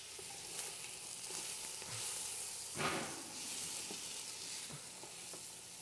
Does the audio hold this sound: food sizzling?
yes